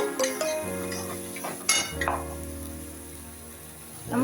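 Ground masala paste of turmeric, garlic and ginger sizzles in hot oil in a pan for mutton gravy, a steady frying hiss with a few metal clinks and scrapes, close and alone without talk.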